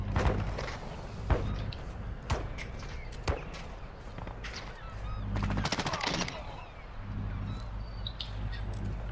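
Video game gunfire in a combat scene, scattered sharp shots and short automatic bursts at varying distances over a busy background, fairly faint overall.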